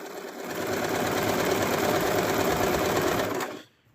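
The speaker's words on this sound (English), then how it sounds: "Just run another straight stitch straight across." Sewing machine stitching a straight seam across a plush fabric piece, a steady close whirring chatter that runs continuously for about three seconds and then stops abruptly.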